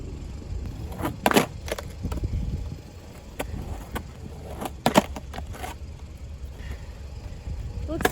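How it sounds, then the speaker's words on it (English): A skateboarder repeatedly attempts big spin tricks, producing sharp board pops, clattering landings and rolling wheel noise at irregular intervals, with talking in between. "This might have to turn into a session of me trying to dial regular big spins"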